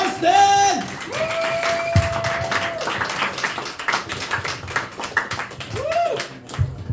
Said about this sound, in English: please start clapping your hands and cheering and stamping for the amazing Jack Ryan Tustin